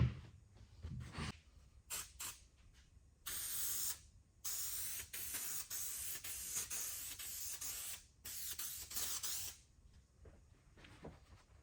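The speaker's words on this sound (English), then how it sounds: "Spraying both sides of the foam and the back frame." Several long hissing bursts of spray adhesive onto upholstery foam and a frame, with short gaps between them, close and sharp, alongside a few brief rustles and clicks.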